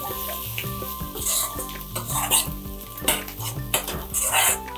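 Potato masala for Mumbai-style vada pav, with salt and chopped coriander, sautéed in a pan: a spatula repeatedly scrapes and clinks against the metal over a steady close sizzle, with no talking.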